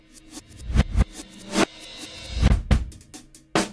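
Reversed audio sample playing back in Kontakt, with swelling hits that build up and cut off abruptly, several bursts in a row at moderate loudness, no voices.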